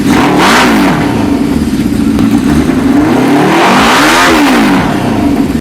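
A Suzuki GS550 cafe racer motorcycle with pod air filters idles and revs up close, its loud engine rising and falling in two swelling rev cycles over a steady rumbling drone.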